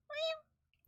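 A person imitates a cat with a single short, convincing meow, close and fairly quiet, lasting under half a second, followed by near silence.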